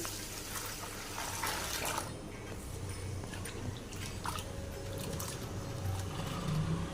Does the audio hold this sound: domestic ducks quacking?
no